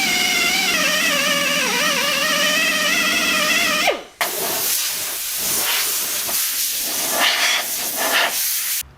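A TACKLIFE mini heat gun runs with a loud, whining motor tone for about four seconds, then cuts briefly and returns as a broad, rushing hiss of hot air, close and continuous.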